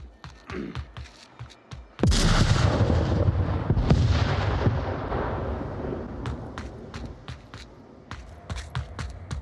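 Gunfire in the VR shooter Onward during a competitive match, a loud burst of shots and booming blasts after a quieter stretch, followed by scattered sharp cracks and footsteps.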